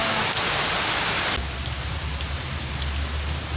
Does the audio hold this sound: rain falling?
yes